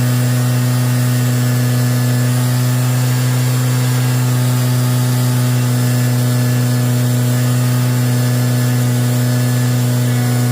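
A scooter engine running lean with its air inlet taped up, a steady loud drone with strong low harmonics held evenly throughout, no talk.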